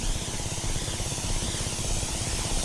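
A sprayer misting plants in a field, a continuous loud hissing spray with a faint low rumble, unbroken throughout.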